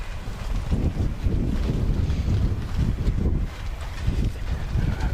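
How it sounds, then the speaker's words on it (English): Wind gusting across the stands above an outdoor wheelchair tennis court at the NEC Wheelchair Tennis Masters, a steady low rumbling buffet on the microphone that swells and eases without pause. "It's pretty windy up where we're sitting"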